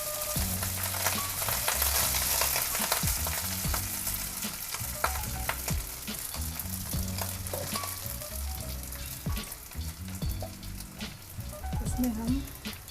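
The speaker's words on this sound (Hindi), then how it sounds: "इसके अंदर 3 टेबल स्पून घी डाला है। इसमें 2 हरी इलायची डाल देंगे और हम इसमें चावल डालेंगे।" Rice fries with green cardamom in hot ghee in a small kadhai on a gas stove, giving a soft, steady sizzle with scraping stir strokes throughout.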